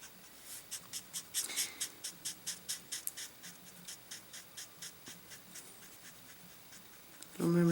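A Prismacolor colored pencil strokes lightly across paper while filling in hair, making a rhythmic series of soft scratchy swishes, close and quiet, with a brief louder sound at the end.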